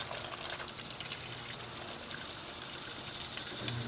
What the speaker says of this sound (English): That's some dirty water coming out of that machine.